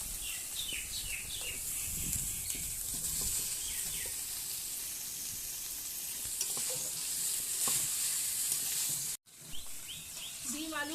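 Potatoes and eggs being sautéed in spice masala in a pan give a steady close sizzle with occasional stirring scrapes, broken by a brief dropout near the end; birds chirp faintly in the background.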